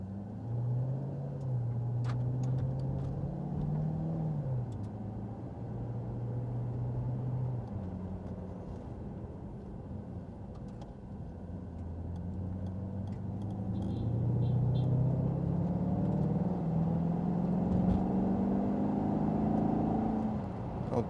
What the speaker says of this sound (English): I'm going to get us down into drive here, and we're going to cruise down about 40 miles an hour.